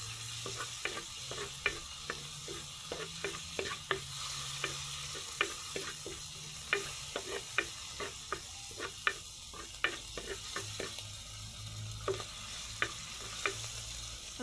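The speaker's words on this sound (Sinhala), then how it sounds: "ඊට පස්සේ කුරුඳු ටික, කරවල, අමු මිරිස්, සුදු ලූණු දාලා හොඳට කවලා කරගමු." Cinnamon, dried salted fish, green chillies and garlic fry with a continuous close sizzle in a pan for an atu kakiri curry, while a spoon scrapes and taps against it in regular clicking strokes.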